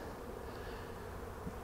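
Dense, steady hum of honeybees buzzing throughout an apiary during humid weather, a continuous close drone with no talk.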